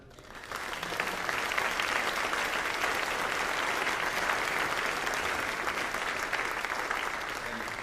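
Sustained applause from the audience at an alumni weekend recognition ceremony for the maintenance staff, swelling in after half a second and holding steady and full for several seconds.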